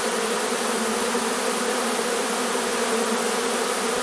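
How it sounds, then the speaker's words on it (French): A large honeybee swarm drones loudly and continuously as the bees pour into a Dadant hive, a dense steady buzz with no pauses and no voices. "On voit tout le mouvement des abeilles qui vont directement dans la ruche."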